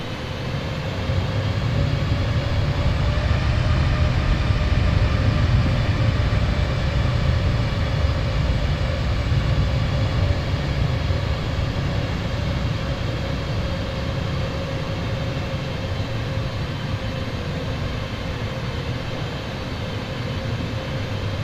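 A320neo airliner engines in Microsoft Flight Simulator 2020 drone in a steady, loud, continuous roar with a faint tonal whine above a broad low rumble, unbroken and with no voices.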